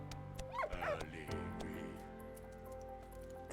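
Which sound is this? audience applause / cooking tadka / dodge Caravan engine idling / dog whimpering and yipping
dog whimpering and yipping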